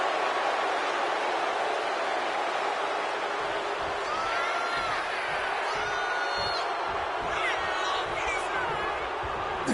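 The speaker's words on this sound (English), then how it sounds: "CM Punk playing to the crowd now." Crowd in a WWE 2K26 wrestling match, a dense, steady arena roar with faint whistles and cheers under a commentator talking throughout.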